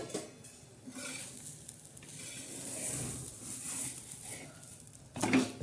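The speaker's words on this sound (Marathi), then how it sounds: "हे बघा आता आपण उलटलेला आहे पराठा" A paratha fries in oil on a pan, giving a soft, steady sizzle and hiss throughout, with a brief clatter near the end as it is flipped.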